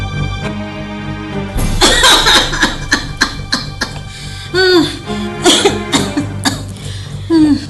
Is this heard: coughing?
yes